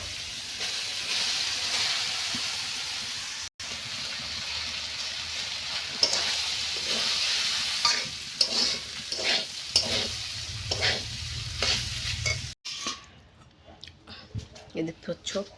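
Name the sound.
frying and stirring cold rice in a pan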